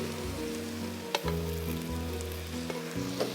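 Sliced onions frying in oil for beef tehari, a steady close sizzle with occasional stirring scrapes and pops, no voices.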